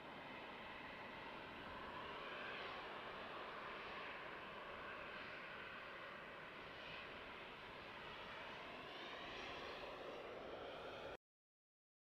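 An Emirates Airbus A380 jet departs at night from a runway line-up, its engines a steady, broad roar that holds strongly and evenly, with no talking, before the sound cuts off abruptly.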